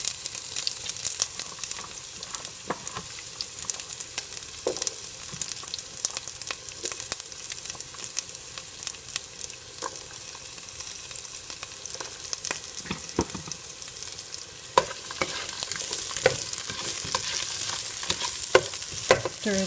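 Onions frying in olive oil in a pan for Japanese chicken curry, a steady close sizzle with scattered clicks and scrapes of stirring throughout, louder bursts near the end, no talking.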